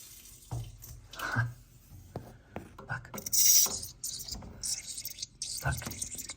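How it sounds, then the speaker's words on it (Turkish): Water splashes and trickles in short bursts from an opened valve on a Buderus Logomax GB 012 combi boiler, heard close with handling clatter and someone talking between the gushes. "Su gelmeye başladı oradan."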